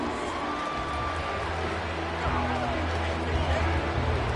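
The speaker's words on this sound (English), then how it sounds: "this crowd is making an impact right now" A football stadium crowd at an American football game roars and cheers in a broad, distant wash that swells partway through, under a commentator's voice.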